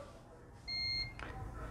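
Continuity tester sounding a single clear electronic beep, lasting about a third of a second, while probes touch points on a phone circuit board, followed by a brief scrape over quiet room noise.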